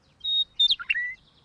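A little cartoon bird sings loudly in a few bright, piercing chirps and warbling whistles, close and alone against a quiet background.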